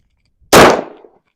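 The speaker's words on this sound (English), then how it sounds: "draw, up, aim, fire one shot" A single handgun shot fired at a shooting range cracks out close and loud, then its echo decays quickly into silence.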